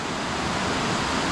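Wild water rushes on Dartmoor in a dense, steady hiss and roar with no pauses, close and unbroken.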